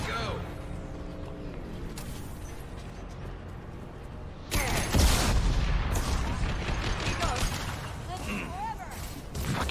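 Bursts of gunfire in the sci-fi shooter game Mass Effect 2, a sudden loud volley erupting midway over a busy combat soundscape, with someone talking throughout.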